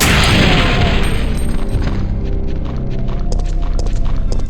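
Gunfire in the video game Resident Evil 3 during a zombie encounter: loud, booming shots pile up over a dense rumbling din, with sharp cracks repeating through to the end.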